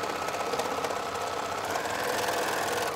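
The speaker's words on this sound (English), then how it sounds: "I'm just going to oversew my overlocking" An overlocker stitching over a t-shirt neckline seam, a fast continuous mechanical whirr and rattle running steadily and close without pause or talk.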